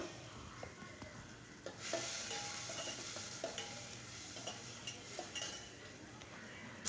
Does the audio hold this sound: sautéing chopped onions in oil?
yes